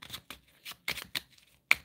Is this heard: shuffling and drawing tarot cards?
yes